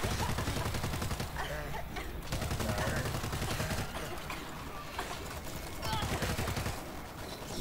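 Rapid gunfire against zombie hordes in the video game World War Z, dense overlapping shots that keep going loudly throughout, with a player's voice talking over parts of it.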